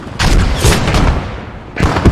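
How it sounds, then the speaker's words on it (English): Deep, rumbling artillery blasts from German guns in the WWII shooter Post Scriptum, with one heavy boom and a rolling tail, then a second burst close by near the end, no talk over it. "There's the German artillery doing its job."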